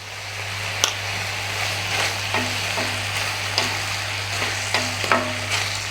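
Tomatoes and onions sautéing in a pan for Karaikudi kara chutney, a steady close sizzle punctuated by a spoon tapping and scraping the pan every second or so, over a low background hum.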